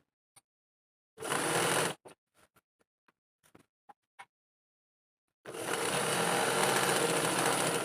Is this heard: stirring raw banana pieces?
no